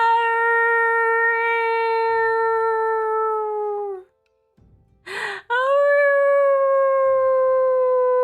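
A person's voice imitates a husky howling: two long, sustained, wavering howls with a short breathy gasp between them, loud and close with no other sound around.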